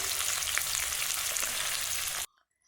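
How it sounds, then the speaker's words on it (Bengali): Chopped onions frying in hot oil in a wok for a Bengali biryani, a steady loud sizzle that runs unbroken for about two seconds and then cuts off abruptly. "পেঁয়াজগুলো ভাজা ভাজা হতে থাক"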